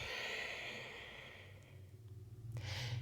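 Slow exhale during a yoga session, a soft breathy rush tapering off over a couple of seconds, followed by a brief sharper breath sound near the end.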